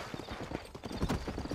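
Horse hooves in Red Dead Redemption clip-clop in a quick, steady rhythm close by, with a brief snort or neigh among the footfalls and no talk.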